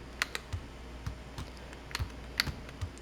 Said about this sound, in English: you can actually probably hear me clicking and you'll hear both buttons